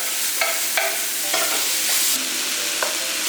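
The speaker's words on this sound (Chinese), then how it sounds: "爆炒一下" Pork belly, garlic slices, napa cabbage and fresh mushrooms stir-fried in a hot wok: sharp metal clanks of the spatula at an irregular rhythm over a constant close sizzle, with no voices.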